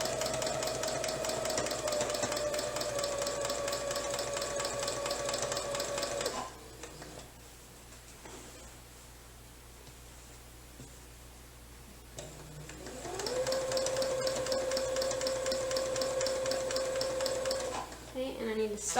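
A small domestic sewing machine stitching a quilt whirs with a steady motor whine in two long runs, separated by a quieter pause of several seconds while the quilt is readjusted.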